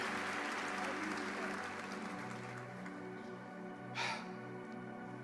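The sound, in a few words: audience applauding as loudly as they can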